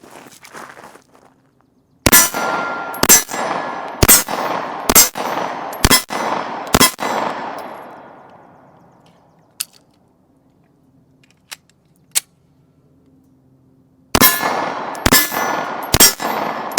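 Sharp pistol shots from an FN FNS-9C ring off steel targets outdoors, a quick string of six loud bangs with metallic clangs, a long decaying ring and a few faint pings, then another rapid volley of shots.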